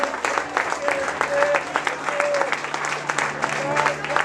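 A church congregation claps along during an energetic Spanish-language prophetic service, a rhythmic wash of hands with a preacher's voice and tonal accents riding over it.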